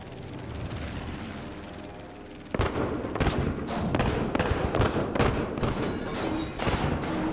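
Heavy 40mm anti-aircraft cannon fire in a video game, a quiet rumbling backdrop erupting into a rapid string of loud, booming shots that keep pounding in an uneven rhythm.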